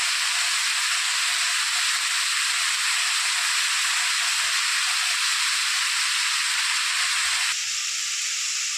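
Chopped banana stem (thor) frying in a pan, a steady loud hiss and sizzle that runs unbroken throughout, close up, with no talking.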